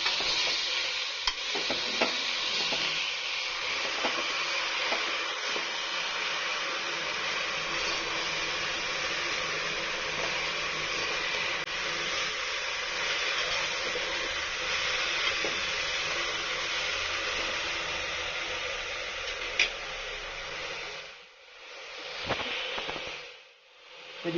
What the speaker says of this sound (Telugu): నూనెలో వేగనివ్వాలి.